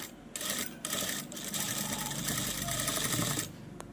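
A sewing machine runs steadily while stitching a side seam on fabric, a loud continuous whirring rattle with brief pauses near the start and a stop at the end.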